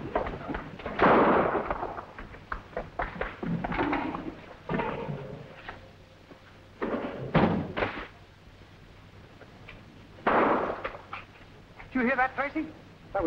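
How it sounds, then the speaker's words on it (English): Gunshots ring out in a garage in a 1950 crime drama. A few sharp, loud bangs mix with tense dialogue and scuffling. "That was the sound of shots."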